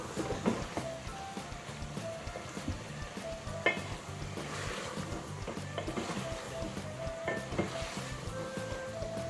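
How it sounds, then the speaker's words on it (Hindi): Potato and cauliflower curry being fried in a pan, a soft, low sizzle with occasional light scraping and stirring clatter, fairly quiet and steady. "पाँच मिनट भूनेंगे अच्छी तरह"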